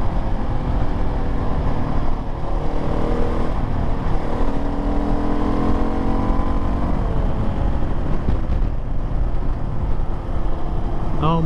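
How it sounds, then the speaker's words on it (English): A modified KTM 690 Enduro single-cylinder motorcycle ridden on twisty two-lane mountain roads in street mode, a loud continuous engine drone with rising and falling revs through the bends and wind rush. "now let's see how this bike does on twisty two-lane roads"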